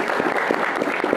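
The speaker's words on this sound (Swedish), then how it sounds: "Tack för det. En applåd." Steady, dense clapping from an audience at a performance by a group of young immigrants at an embassy event, continuous and fairly loud across the whole moment.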